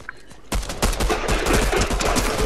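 Rapid grey pistol fire in a video game, a dense run of sharp overlapping shots with steady loud crackle and booms over background game noise.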